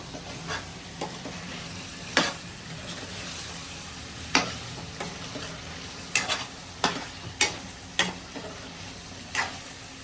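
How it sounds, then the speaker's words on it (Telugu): Spicy chicken curry sizzles in a pan under a steady frying hiss, punctuated by a dozen or so sharp spoon scrapes and knocks against the pan as it is stirred, close and clear with no talk. "ఇట్లా కలిపేసుకొని ఒక నిమిషం అటు ఇటు తిప్పుకున్న తర్వాత"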